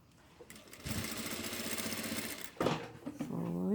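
Domestic sewing machine stitching fabric for a 3D face mask, a fast close whirring run of stitches that stops briefly, then starts again in short bursts.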